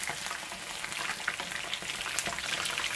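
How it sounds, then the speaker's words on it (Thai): Fish frying in oil for an Arabic-style fish curry makes a continuous, moderately quiet crackling sizzle with small pops, heard alone without speech. "การทอดปลาเลยเนาะ"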